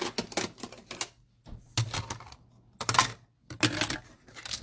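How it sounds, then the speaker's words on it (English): A mini die cut and emboss machine cranked by hand, producing bursts of clicking, ratcheting mechanical clatter separated by short pauses, close and fairly loud. "Grab my mini cut and emboss machine."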